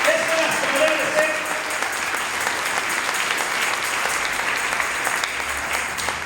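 A congregation claps steadily and fairly loudly for the Lord during a Spanish-language church sermon, a dense, sustained wash of many hands that carries unbroken from start to finish.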